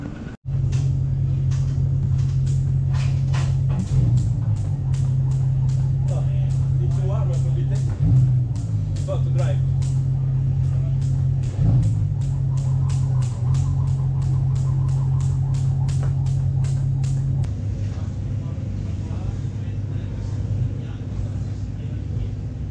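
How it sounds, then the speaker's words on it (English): A safety car circles a race track during a Lamborghini racing event, its engine a steady droning rumble with gear shifts and a passing whine. Other noises crackle sharply over it, and the sound drops off toward the end. "Safety car of the race."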